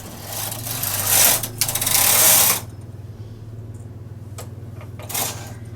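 The carriage of a knitting machine runs across a row of needles, a loud rasping, clattering sweep lasting about two seconds. Quieter clicks and a couple of short knocks follow over a low steady hum.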